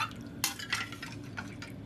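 Soft scraping and clinking of a utensil stir-frying turnip cake batter with white radish in a pan, with a few brighter taps at irregular intervals over a low background hum.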